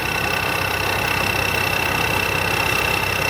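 A stainless-bodied combine harvester's engine idles close by with a steady, even rumble and a thin constant high whine, no other sounds.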